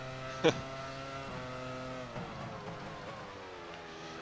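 Race car engines in the F1 Challenge 99-02 video game drone at a steady high pitch with shifting tones, fairly quiet, with a short sharp knock early on.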